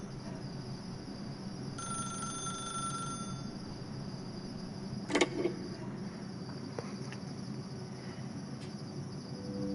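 A telephone rings in the video game The Stanley Parable, a faint electronic trill heard briefly over a quiet hum of ambience, followed by a sharp click and soft thuds.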